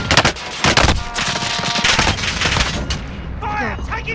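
Dense, loud Call of Duty: Modern Warfare gunfire, rapid overlapping shots and bursts crackling through a chaotic firefight, with brief voice-like tones near the end.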